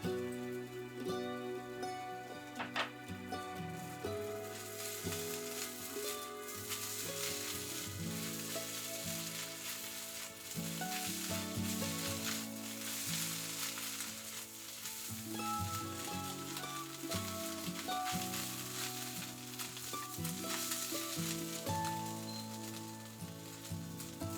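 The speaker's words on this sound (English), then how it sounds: "Adding the small pieces of salad leek and mixing everything together" Eggs and small pieces of salad leek stir-fry in a pan with a steady, close sizzle that runs the whole time beneath louder background music.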